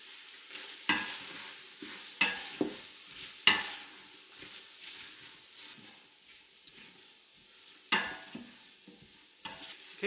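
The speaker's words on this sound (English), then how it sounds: "Try to brown up the white onions and the green pepper." White onions and green pepper browning in an Instant Pot on saute mode, with a low continuous sizzle broken by several sharp scraping stirs against the pot, close by and with no voices.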